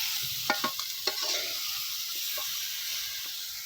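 A salted mango mixture cooks in a wok over a wood-fired stove, giving a steady close hiss and sizzle with a few brief scraping stirs near the start.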